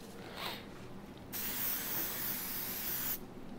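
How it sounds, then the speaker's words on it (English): PAM cooking spray from an aerosol can sprayed onto a paper towel in one close, steady hissing burst of about two seconds, preceded by faint handling noise. "you're gonna spray some PAM on it"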